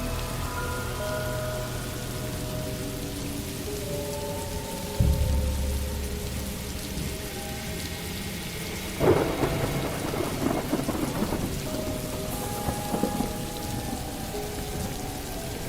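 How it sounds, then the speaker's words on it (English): Steady rain pours down with two deep rumbles of thunder, one around the middle and another building later, no voices. "The sound of raindrops hitting the pavement echoed through the empty alleys"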